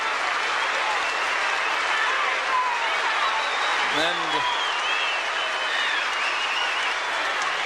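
Stadium crowd applauding at the 1979 Australian Open final as Guillermo Vilas wins, a dense sustained roar of clapping that fills the whole stretch while a commentator speaks over it briefly.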